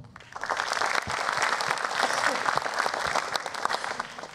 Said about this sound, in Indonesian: Saya ingin memulai dengan tepuk tangan buat Popon.